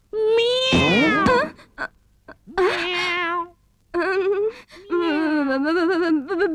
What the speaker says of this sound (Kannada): ಈ ಬೆಕ್ಕುಗಳದ್ದು ಒಂದೇ ಗಲಾಟೆ.